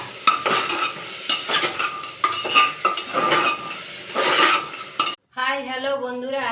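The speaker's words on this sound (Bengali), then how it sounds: "সব কিছু নাড়িয়ে চাড়িয়ে প্রেসার কুকারে সিটি দেওয়া হবে" Daliya khichdi being stirred in a pressure cooker, a spoon scraping and clinking against the metal pot in irregular strokes over a light sizzle, cut short before a brief stretch of other sound at the end.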